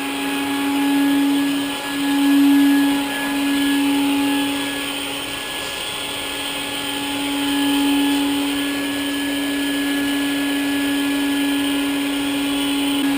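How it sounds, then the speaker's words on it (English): Shop vacuum running steadily during a live honeybee removal from a stucco roof, sucking bees off exposed honeycomb; a continuous loud whine with a strong low hum, slight dips in level, no talk. "let's just go ahead and vacuum the bees up off that honey"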